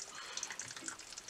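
Water rushes out as a toilet cistern is emptied during a float valve replacement, a soft, steady hissing flow with light splashy bubbling, fairly quiet and close, no talking.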